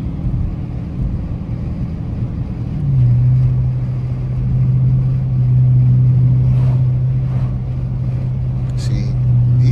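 A loud 2023 RT truck engine drones low and steady while driving through a neighborhood, deepening into a stronger sustained hum after a few seconds, with faint background noise.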